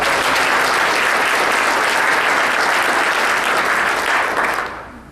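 A large audience at a city address applauds city staff in a dense, sustained roar of clapping that holds steady for several seconds and then fades out at the end.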